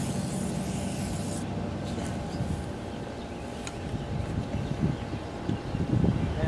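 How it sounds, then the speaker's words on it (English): A steady hiss from a gas-powered sprayer spraying down a fire bush runs through, with engine-like drone and rustling underneath, close to the microphone, growing a bit louder near the end. "I got the big gas one, so we'll just get that and spray that down quick."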